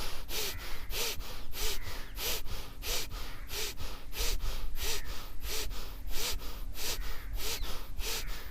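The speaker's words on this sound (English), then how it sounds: "So inhale and exhale." Fast, rhythmic breathing exercise in a follow-along morning routine, pranayama-style, with quick forceful inhales and exhales repeating steadily about twice per second, close and clear with no talking.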